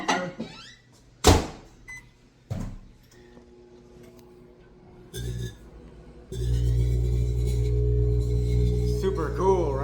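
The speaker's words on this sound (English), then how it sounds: "Sustained plasma generation in a microwave." A microwave oven turns a kitchen match covered with paper into plasma. A few sharp clicks and bumps come first, then a loud, steady electrical hum with a buzzing crackle runs to the end.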